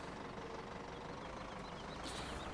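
A tractor engine in Farming Simulator 17 on the Sosnovka map for Xbox One labors under a heavy load, a faint, steady low drone running evenly throughout.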